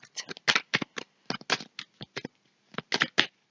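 Tarot cards are shuffled by hand in a rapid, uneven patter of crisp riffles and flicks, near and fairly loud, with short pauses between bursts and no talking.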